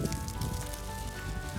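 Water patters steadily onto weatherproof canvas tent fabric as a dense, close spray of drops, with a low hum underneath and a sharper splash at the very end.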